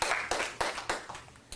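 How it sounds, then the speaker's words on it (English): Audience at a school board meeting claps in short, sharp bursts of applause, several rhythmic waves rising and fading in a large room. "Would you please curtail your clapping, or I will dismiss you from the meeting."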